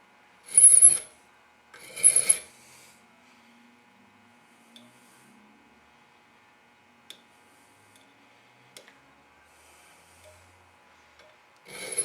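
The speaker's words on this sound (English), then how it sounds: "Try to keep your file flat, and when you file, don't push down on the ends." A flat file rasps across metal in two short, separate strokes near the start, followed by long near-silence broken only by faint ticks, and a third stroke beginning at the very end.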